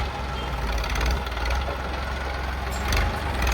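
Tractor running with a heavy manure spreader attached, a loud steady engine drone close by, with no talk.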